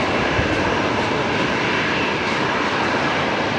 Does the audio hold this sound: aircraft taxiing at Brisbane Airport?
yes